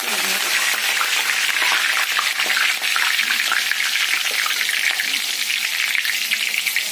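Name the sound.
curry leaves frying in oil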